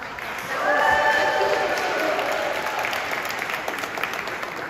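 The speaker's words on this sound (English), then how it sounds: "I think that deserves an applause right there." An audience at a homecoming welcome address applauds, a steady wash of clapping that swells after a second and continues evenly, with faint voices mixed in.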